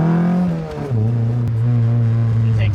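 A naturally aspirated D-series Honda Del Sol with Kawasaki Ninja motorcycle carburetors accelerates nearby, the engine's tone dipping as it shifts and then pulling strongly again, a loud steady drone.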